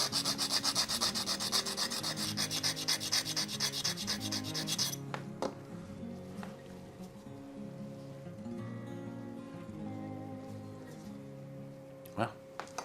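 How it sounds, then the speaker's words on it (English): A sander shortens a part from a Matchbox 13D Dodge wreck tow truck: rapid, loud buzzing grinding for the first five seconds, then quieter rubbing and scattered clicks and taps close by. "Best sander ever."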